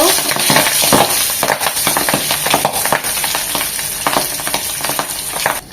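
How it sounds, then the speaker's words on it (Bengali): Pabda fish fry in hot oil for a mustard-poppy-seed curry, a loud continuous close sizzle with spattering pops and occasional stirring scrapes throughout. "তেলটা গরম হয়ে গেছে মাছগুলো ভেজে নেব"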